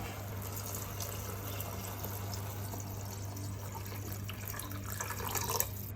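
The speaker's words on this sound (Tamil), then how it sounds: "இதுக்கு மொத்தமாக 3 கப் தண்ணி ஆட் பண்ணிக்கலாம்." Water is poured from a cup onto rice and green gram for a dal khichdi in a kitchen, a soft continuous trickle over a low steady hum, fairly faint and with no talk.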